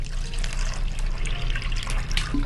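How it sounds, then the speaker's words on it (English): Water poured into a plastic zip bag for a home science experiment, a steady close trickle and splash running for a couple of seconds with no talking. "Now we're going to pour some water in."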